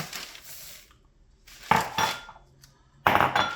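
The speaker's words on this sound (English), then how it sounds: "you stir this in gently, you don't go crazy" Marshmallow mixture for Oreo rice krispy treats being stirred in a pot, heard as a few soft scraping and clinking bursts of a spoon against the pan, separated by quiet pauses.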